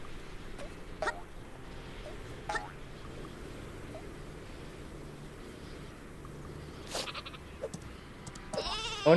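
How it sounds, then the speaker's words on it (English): Several short sheep bleats pop up over a busy game soundscape in Worms W.M.D., scattered across the stretch with a louder burst near the end. "Oh no, it is a sheep."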